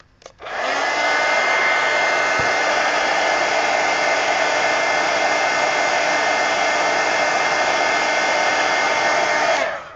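A hair dryer switches on and blows steadily at a loud, even whir over an adult coloring book page, then cuts off at the end with no voices.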